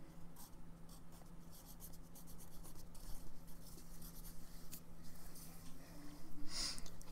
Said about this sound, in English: So, I'll write this down.